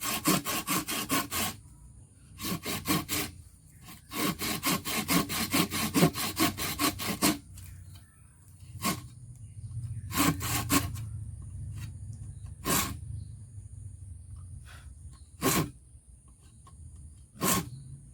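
Hand saw cutting through a bamboo tube, in repeated bursts of rhythmic rasping strokes that alternate with pauses and single scrapes, close and fairly loud with no talking.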